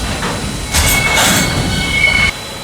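A model train engine backs down onto its mixed train, with wheels squealing in thin high tones over a rumbling rolling base, close and fairly loud, ending abruptly as the motion stops.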